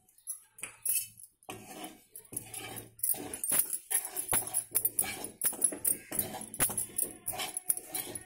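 A spoon stirs a dry fruit laddu mixture with jaggery and Balamrutham powder in a pan, giving repeated close metallic scrapes and clinks in an irregular rhythm.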